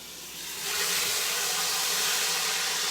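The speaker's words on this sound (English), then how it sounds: "I'm just going to sear it probably for a minute or two" A beef roast hits a hot pan and sears, rising within a second into a loud, steady broadband sizzle that holds strongly to the end, close and alone with no voices.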